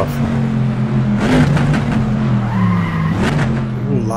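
A Corvette C2 locks its brakes in Assetto Corsa at Watkins Glen, with loud tire squeal sliding over a steady, droning engine note, then engine pitch climbing again as it pulls away.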